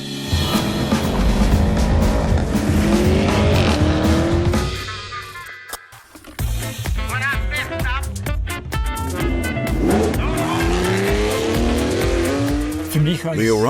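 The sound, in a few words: Porsche Cayenne GTS central exhaust system sound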